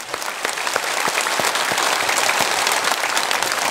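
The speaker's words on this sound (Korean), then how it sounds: "영접한 분들 진심으로 축하 박수 드리겠습니다." A church congregation applauding during a Sunday worship service, a full, lively round of clapping with distinct individual claps standing out from the steady crowd sound, fairly close and loud.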